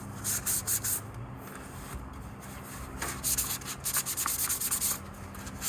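Scuffing a Subaru WRX aero piece by hand to prep it for paint produces close, rhythmic bursts of rasping rub strokes, a brief pause, then another run of quick strokes.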